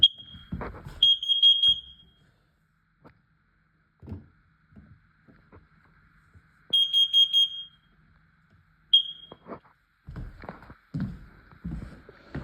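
A smoke or carbon monoxide alarm under test emits loud high shrill beeps in short bursts, with gaps of handling noise and clicks between them and a few quiet voices near the end.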